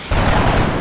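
Gunfire in the video game XCOM Enemy Within, a dense burst of rapid shots that starts abruptly and holds loud and steady for under a second.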